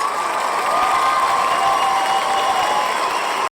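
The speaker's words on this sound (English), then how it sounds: "Okay, now applause." A canned applause sound effect is played: a thick, continuous wash of clapping crowd noise, loud and unbroken, cutting off sharply at the end.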